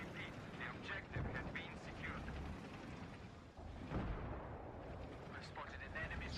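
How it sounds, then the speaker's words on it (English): Mortar fire in a video game battle lands as a few distant, muffled booms under steady background rumble, with a voice speaking faintly over it. "Somebody's mortaring, so back up."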